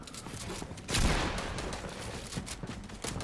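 Fortnite gunfire: rapid bursts of shots crackling in quick succession, loud and close, with one heavier blast near the start and more volleys following, over a busy game backdrop.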